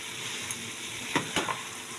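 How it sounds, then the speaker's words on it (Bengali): New potatoes frying with spices and garam masala in a pan, a continuous sizzle broken by a few brief scraping stirs near the end, no talking. "দিয়ে এবার আমি খুব করে কষিয়ে নেব ভালো করে"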